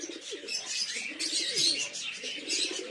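Pigeons from a backyard loft collection during rain, soft repeated cooing in low overlapping phrases throughout, with constant chirping and rainy hiss above.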